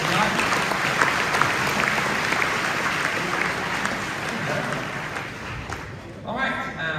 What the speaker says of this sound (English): Please round of applause for our fantastic panel.